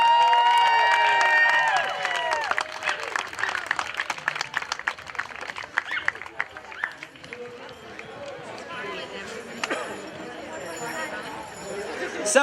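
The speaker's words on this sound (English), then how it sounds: "So let's give them a round of applause." Crowd at a half marathon awards ceremony claps for the race winners, scattered applause and cheers mixed with voices and an announcer talking over a loudspeaker, thinning out into sparse claps.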